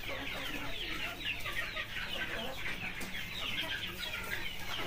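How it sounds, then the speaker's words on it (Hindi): Flock of about fifty hens and two roosters on a local poultry farm, clucking continuously in a dense overlapping chorus at moderate distance, with no talk. "मैं इनमें 50 मुर्गियों में मैंने दो ही मुर्गा रखा हुआ है"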